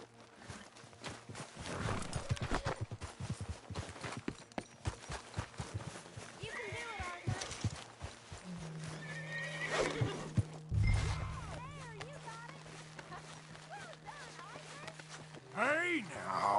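In a PS4 video game, a horse whinnies loudly in the middle, with clip-clopping hooves beforehand and a low hum throughout, in a quiet scene.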